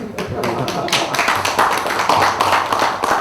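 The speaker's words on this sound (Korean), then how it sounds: "저희 박수를 한번." Participants at a Democratic Party of Korea floor strategy meeting clap together in a short, dense round of close hand claps, with voices mixed in.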